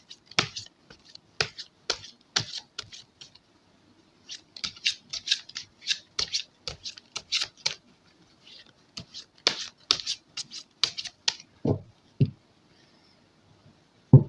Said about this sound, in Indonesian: kocok dulu biar tershuffle dengan rata